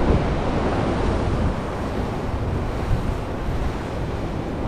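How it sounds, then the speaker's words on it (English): Steady, roaring wind buffets the microphone with a broad rushing wash, likely rain mixed in, loud and continuous with no pauses. "Super windy, super rainy"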